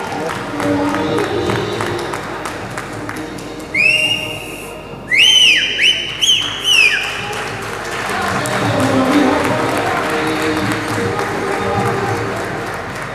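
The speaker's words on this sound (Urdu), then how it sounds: "آپ سے تالیوں کی درخواست" An audience at an event in the Lords Complex, Lahore, bursts into applause, a dense patter of clapping that swells at the start and end, with several loud, sharp whistles piercing through the middle.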